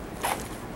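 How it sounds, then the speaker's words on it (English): A Condor MOLLE Nalgene water bottle carrier is unzipped in one quick, close rasping zip that lasts well under a second. "You unzip it,"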